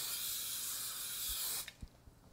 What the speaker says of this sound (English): you want to spray it with some cooking oil.